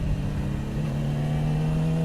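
A 2018 Yamaha R6 sport bike engine runs loud and close in a steady, sustained drone with a strong low hum and no audible voices.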